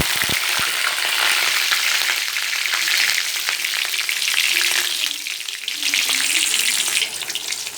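Shallots and cumin frying in hot coconut oil, a steady loud sizzle and crackle filling the whole stretch with a few stirring clatters, no voices.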